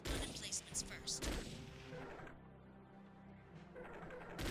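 Heavy cannon fire from combat mechs in the video game Chromehounds: several loud booming shots at the start and end, with a low mechanical drone running beneath.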